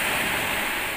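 Sea waves make a steady, broadband wash of surf with no breaks and no voices.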